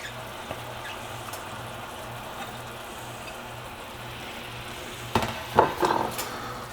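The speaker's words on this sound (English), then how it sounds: "Okay, the onions and the garlic smell great. They're sauteing wonderfully." Garlic and onion sauté in vegetable broth with a soft, steady bubbling sizzle, quiet and close, before a few clattering stirs and utensil knocks near the end.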